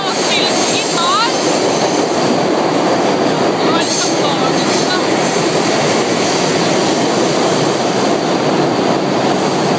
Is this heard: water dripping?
no